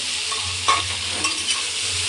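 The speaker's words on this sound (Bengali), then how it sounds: "এই যে পেঁপেটাকে আমি ভাজা ভাজা করে নিচ্ছি।" Papaya pieces fry with a steady close sizzle in a pan while a spatula stirs, scraping a few times over the continuous crackle.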